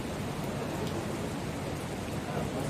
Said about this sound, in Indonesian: Walaupun hujan